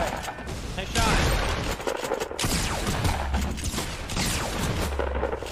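Rapid gunfire from the video game Fortnite crackles in a dense, continuous barrage of shots and impacts, loud and close, with other game noise mixed in.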